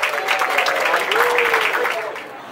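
Passengers and crew applaud aboard a Singapore Airlines A350-900ULR on a very long flight, a loud, dense round of clapping in a cabin with a voice over it.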